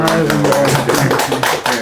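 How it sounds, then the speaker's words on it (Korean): Audience at an academic theology lecture clapping for a professor, a short loud burst of dense hand claps. "오늘 발제하신 백 교수님께 한번 박수를"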